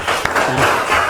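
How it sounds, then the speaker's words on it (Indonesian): Brief burst of classroom clapping, a quick dense rattle of many hands, close and fairly loud. "tepuk tangan."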